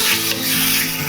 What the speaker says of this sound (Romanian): Am pus carnea la prăjit